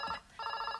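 A telephone rings in two bursts of electronic trilling with a short gap between them, close and clear in an office setting, with no talk over it.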